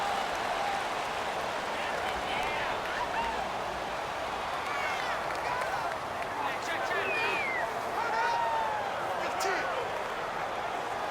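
Steady, dense stadium crowd roar from a Madden NFL 19 football game between the Arizona Cardinals and Atlanta Falcons, a home crowd loud against the offense, continuous with scattered whistles and cheers over about eleven seconds.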